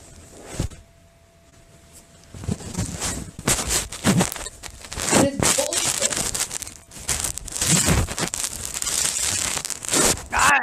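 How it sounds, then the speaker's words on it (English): A phone is rubbed against a blanket close to the mic, giving continuous scratchy rustling and crinkling friction noise with louder bursts. It continues for about ten seconds with no clear talk. "He's rubbing the phone against like a blanket."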